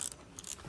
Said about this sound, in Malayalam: ഇതിന് കറങ്ങുമ്പോൾ ഒരു കിരികിരി സൗണ്ടും കറങ്ങാൻ ഭയങ്കര ബുദ്ധിമുട്ട്